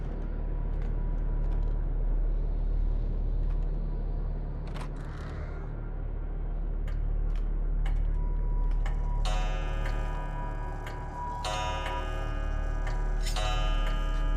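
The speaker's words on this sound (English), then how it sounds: "what a wonderful cuckoo clock" A cuckoo clock ticks steadily in a quiet horror game scene, its regular ticks over a low droning ambience, with a brighter metallic ringing texture joining in the second half.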